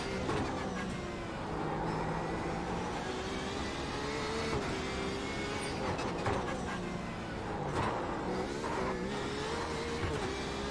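A Porsche 911 RSR races around Belle Isle in a racing game, its engine revving steadily with rising and falling pitch through gear changes and corners, loud and continuous from start to end.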